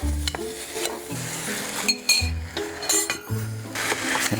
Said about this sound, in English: You got to keep on stirring it. You have to stir it up, stir it, mix it properly.